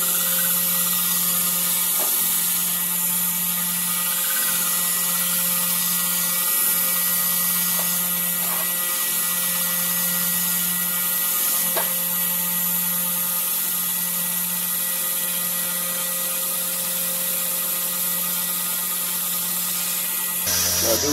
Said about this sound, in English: Clean up all the grind marks, and then I'll go at a slight angle on this side, slight angle on the other side, and my belt will create a little bevel.